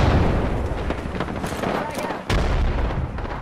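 A grenade blast in Apex Legends amid heavy, continuous gunfire and booming, with loud dense rumble filling the clip and a brief dip before the noise resumes, while players talk over it.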